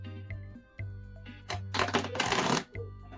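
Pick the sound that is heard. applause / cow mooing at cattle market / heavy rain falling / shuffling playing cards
shuffling playing cards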